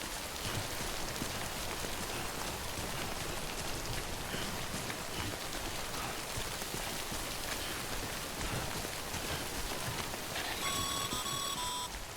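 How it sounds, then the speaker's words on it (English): Timefall rain in the video game Death Stranding falls steadily and densely, a constant hissing patter of drops on surfaces, with a few soft electronic beeps chiming near the end. "Don't stay out in the rain any longer than you have to."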